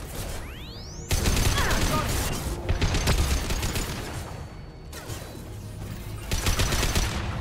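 Incendiary-ammo gunfire in Mass Effect Legendary Edition, loud sustained bursts of rapid shots with brief pauses between them, plus a whooshing sweep at the start.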